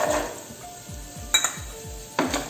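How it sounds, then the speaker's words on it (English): Cashew nuts tossed into a pan to fry for Kanchipuram idli, with a few sharp metallic clinks of a spoon against the pan over a quiet, steady background. "I am adding half a cup of cashew nuts."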